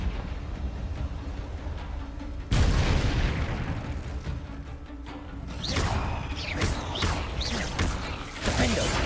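A Confringo blast spell in Hogwarts Legacy goes off with a sudden loud boom, followed by rumbling magical combat effects and crackling bursts over several seconds.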